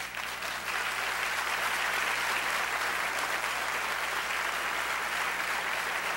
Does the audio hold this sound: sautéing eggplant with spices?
no